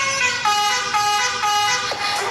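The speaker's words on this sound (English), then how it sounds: "this HONK sounds like Indian trucks" Truck horn honking within a song, a loud, sustained, multi-tone blaring with a few brief breaks and pitch dips, heard up front over the music.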